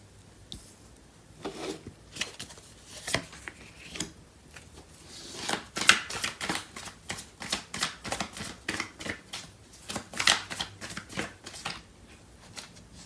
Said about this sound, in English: I'm going to clarify these cards.